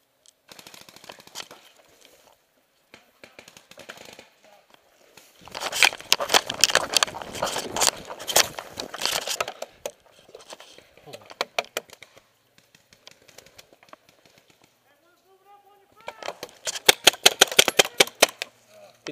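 Paintball guns firing during an outdoor paintball game, rapid clattering bursts of shots in two main volleys with scattered pops between, fairly close, with brief shouting among players.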